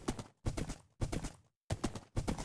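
Hoofbeats of a tamed horse in Minecraft, with five evenly spaced clip-clop bursts, each a cluster of hollow knocks with brief gaps between, fairly close and clear with no talk.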